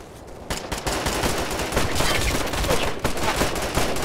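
Dense gunfire in the Operation Flashpoint Red River video game: loud, continuous overlapping rifle and machine-gun shots crackle without pause in a close, chaotic firefight.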